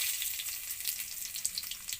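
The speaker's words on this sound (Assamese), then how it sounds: "এয়া তেল গৰম হৈ আছে। এয়া দিছোঁ প্ৰথমে শুকান জলকীয়া, এয়া তেজপাত" Garlic crackles and sizzles in hot oil with dried chilies and a bay leaf, a steady close bright frying hiss with small pops, no voices.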